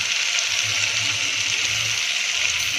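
Water is poured into a bowl of spice mixture of chilli powder, garam masala and turmeric for a potato and cowpea curry, a steady close gush lasting a few seconds with no talking.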